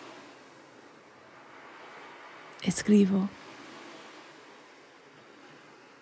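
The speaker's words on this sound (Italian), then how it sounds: "Con la sinfonia delle onde languide sulla spiaggia sassosa che mi tiene compagnia." Gentle waves wash over a pebble beach on Salina in the Aeolian Islands, Sicily, a soft steady rush running throughout, with someone briefly speaking midway.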